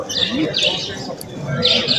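Caged birds, canaries among them, chirp and tweet at an indoor bird fair run by a bird club, bright short calls in bursts over a murmuring crowd background.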